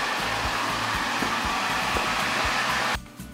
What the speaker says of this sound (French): on aspire par la pompe et on retourne directement sur l'air foulement, sans passer par le filtre